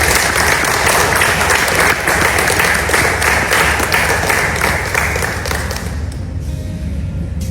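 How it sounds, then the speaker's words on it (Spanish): Loud, close applause from an audience honoring a writer, many hands clapping densely and steadily before gradually thinning toward the end. "el momento debe de ser propicio para dar un aplauso a nuestro escritor"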